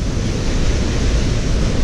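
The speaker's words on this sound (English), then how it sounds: "So right now I'm at the waterfall and uh, it's pretty nice." A Yosemite waterfall, flowing lower than usual, gives a loud, steady roaring rush of water close by, unbroken and without any voices.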